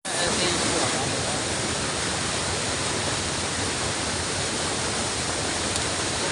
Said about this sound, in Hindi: यहाँ पे पत्ते तोड़ दिए तो पूरा झरना दिखाई देने लगा।